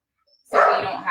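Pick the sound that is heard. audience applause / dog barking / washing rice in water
dog barking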